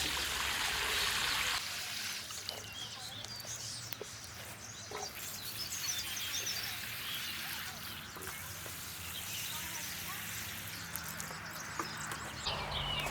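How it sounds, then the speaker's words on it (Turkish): Water poured over newly planted pepper and tomato seedlings in a garden bed, a steady trickling splash close by, with birds and a rooster faint in the background. "Şöyle ilk can sularını da verelim."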